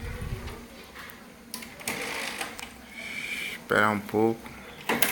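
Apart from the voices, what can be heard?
HP 7612 printer making a strange mechanical noise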